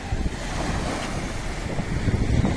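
Steady roar of surf and wind, broad and continuous, with waves washing in and swelling slightly louder toward the end.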